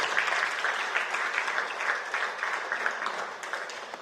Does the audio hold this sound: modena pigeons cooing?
no